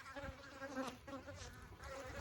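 Honey bees buzz around exposed honey frames at a hive in a bee yard, a close, wavering drone that swells and fades as individual bees pass nearby.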